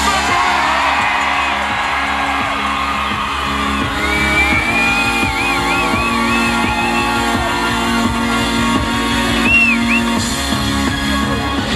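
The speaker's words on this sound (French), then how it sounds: "Je crois qu'on peut applaudir ça." A crowd welcomes home silver medallist Julia Pereira at Isola 2000 with loud, sustained cheering, whoops, yells and shouts that form a dense, unbroken wall of celebration for the full length.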